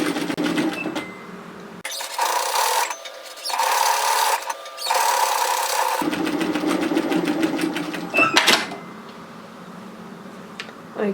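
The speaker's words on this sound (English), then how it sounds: "we're going to stitch really close to the edge on the unfused side" A sewing machine runs in two sustained bursts as it understitches close to the edge of a V-neck sweater neckline, with quieter ticking and handling before and after.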